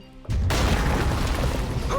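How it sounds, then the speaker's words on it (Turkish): A sudden deep boom hits after a brief quiet moment, then a dense roaring rumble sustains loudly to the end: a bomb exploding during a bank robbery in the video game GTA 5. "Evet bombamız patladı arkadaşlar."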